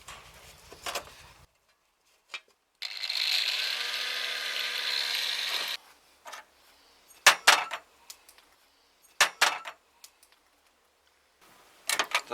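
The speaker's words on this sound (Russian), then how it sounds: "от алюминиевого бачка я отрежу" A strip is cut from an aluminium tank, with a few seconds of harsh, gritty cutting noise between sharp knocks and clatter from handling the metal, close and clear.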